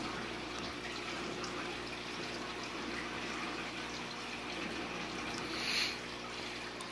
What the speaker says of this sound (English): right up here is an overflow box that was installed. As you can see, it's flowing a ton of water.